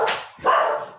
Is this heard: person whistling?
no